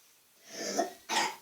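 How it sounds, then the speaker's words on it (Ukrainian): Two short, raspy coughs close by, the second sharper and more abrupt, separated by a brief pause. "Ой, та не кашляй."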